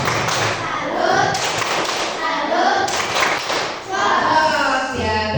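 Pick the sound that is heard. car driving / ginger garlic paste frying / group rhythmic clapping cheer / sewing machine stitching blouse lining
group rhythmic clapping cheer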